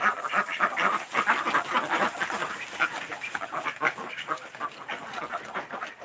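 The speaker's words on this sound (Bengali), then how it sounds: "সাদা হাঁসটা কত সুন্দর" A white domestic duck quacks repeatedly in quick, rhythmic bursts, mixed with other ducks calling close by, a steady raucous chatter over several seconds.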